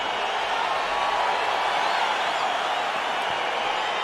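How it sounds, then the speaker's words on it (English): A large arena crowd at a UFC fight roars in a steady, dense wash of cheering as the bout gets underway, continuous and fairly loud with no single voice standing out. "crowd getting excited as this fight gets underway"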